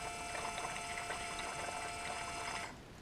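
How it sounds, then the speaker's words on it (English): A DQ200 mechatronic unit's hydraulic pump runs on bench power, giving a steady, fairly quiet electric whir with a faint ticking texture that holds evenly for about two and a half seconds, then cuts off. "I can see the pump is working"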